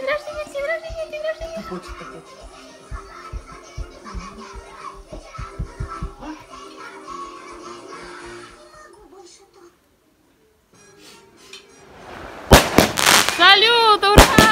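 At a children's summer birthday party, voices and children's chatter give way to a sharp run of loud crackling firework bursts near the end, with excited shouting over them.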